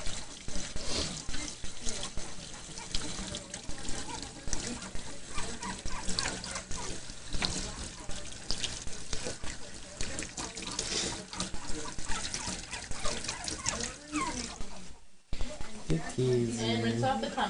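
Running water rinses a puppy's belly during a bath at a sink, a steady trickle and splash under continuous close, cheerful talk, with a brief pause near the end.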